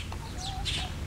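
Chickens cluck nearby on a farm, a few short clucks and squawks over a steady low outdoor rumble.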